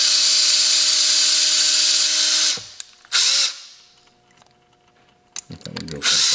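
Rotary tool bit drilling into a die-cast Hot Wheels '85 Camaro IROC-Z, a loud steady high whine that cuts out, bursts briefly, falls quiet, then starts again near the end.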